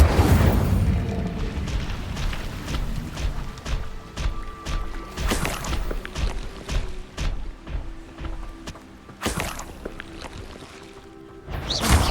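The Incendio fire spell is cast in the Hogwarts Legacy video game. It bursts with a whooshing, crackling blast over busy game ambience, followed by scattered thuds and impacts across several seconds.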